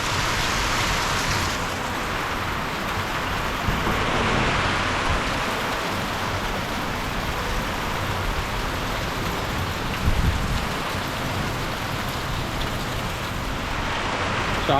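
Heavy unseasonal rain with hail pours down steadily and loudly for the whole stretch, a dense continuous hiss with occasional heavier patters and no voices.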